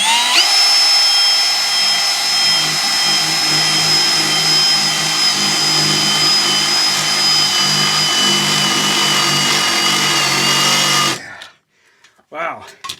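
A power drill with a Spectral stepped-point bit whines steadily through metal, a loud, sustained high-pitched grind for about eleven seconds before stopping, followed by quieter handling noises.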